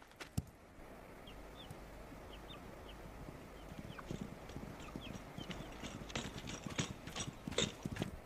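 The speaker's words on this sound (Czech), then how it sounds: "Koně." Horses' hooves clip-clop in a dubbed 1969 Western film scene, a fairly distant rhythmic clatter that grows busier and louder toward the end, with faint bird calls in the background.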